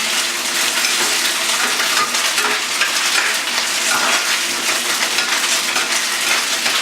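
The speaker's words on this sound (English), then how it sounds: "You see the tofu starting to cook, starting to get golden brown" Tofu frying in a pan and turning golden brown, a dense, loud, even sizzle with crackling and spitting that runs unbroken from start to finish, with no talking.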